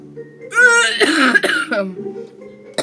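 A person coughs hard and raspily close to the microphone, a choking, strained burst of several coughs with voiced gasps between them.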